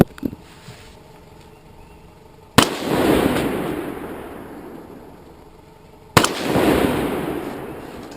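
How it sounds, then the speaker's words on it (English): Two sharp rifle shots fired through a 4X ACOG scope at an off-angle outdoor range out to 300 yards, each a loud crack with a long rolling echo, spaced a few seconds apart after a quiet stretch. "back to shooting."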